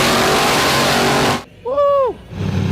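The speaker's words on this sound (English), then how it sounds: "Insane muscle cars." Powerful muscle cars roar past loudly as a dense, close engine blast that cuts off abruptly, followed by a brief rising-and-falling revving whine and a lower rumble.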